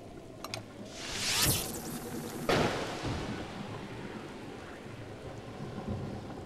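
Rain and thunder in Zelda Breath of the Wild: steady rainfall hiss with a rolling thunder swell building and a sharp crack of thunder, heard without speech.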